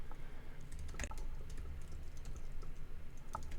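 Rapid, uneven clicking of keys on a wireless computer keyboard running low on battery, tapped steadily in a quiet room with no one talking.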